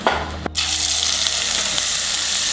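Wagyu steak cut sizzles loudly in a hot pan with onions, a steady dense frying hiss after a brief stir at the start, close and continuous with no talking.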